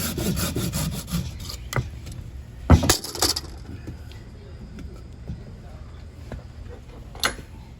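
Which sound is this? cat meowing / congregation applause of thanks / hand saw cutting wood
hand saw cutting wood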